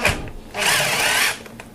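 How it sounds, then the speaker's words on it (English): Cordless drill backing out the screws of a chain guard on a child's pedal bike, a short high whir of about three quarters of a second between brief clicks, loud and close with no speech. "You don't need a cordless drill to do this, but it speeds the process for purposes of the video"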